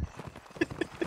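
Horse hooves clopping in a video game, quick rhythmic thuds with a few sharper hollow knocks, close and moderately loud over a brief stretch.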